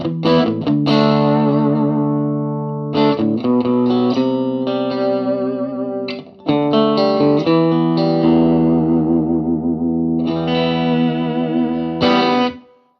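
An electric guitar plays through a Marshall DSL1CR amp on the bridge pickup with a gritty, slightly distorted tone, sounding loud and close as sustained chords and single-note phrases ring out with short pauses between them.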